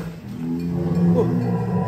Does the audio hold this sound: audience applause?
no